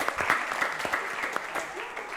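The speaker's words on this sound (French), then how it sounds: "Applaudis encore." Audience applause for performers at an event in Madagascar, a steady wash of many hands clapping close by, with excited voices and shouts mixed in throughout.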